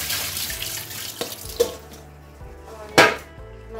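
Mushrooms are rinsed under a running kitchen tap, with a steady water hiss, soft splashes, and a louder clatter near the end.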